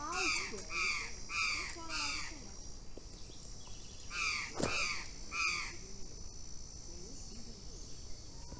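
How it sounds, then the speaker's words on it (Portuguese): Crow-like bird caws in a rural countryside plot, a run of four hoarse calls followed by a few more after a pause, over a constant shrill insect chorus; brief voices also come through. "Pássaro bonito."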